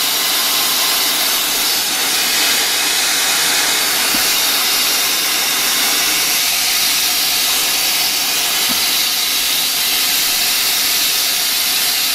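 A suds pump sprays coolant mist in a continuous, loud, even hiss that holds steady throughout, with a couple of faint ticks and no voices.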